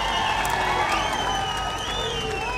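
A large crowd at a political rally welcoming Chief Minister Revanth Reddy, dense sustained applause and cheering with whistles rising above it, loud and continuous.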